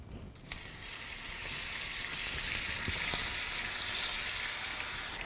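Cold butter hitting hot caramel in a pan sets off a loud, steady sizzle that runs close and unbroken throughout, with a couple of faint clinks near the middle.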